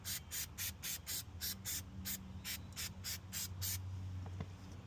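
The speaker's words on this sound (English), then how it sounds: "Just hose it off first and then spray it with the tar." Quick, sharp hissing bursts of a spray bottle applying tar remover to a car fire in a rapid series, close and fairly quiet, then stop.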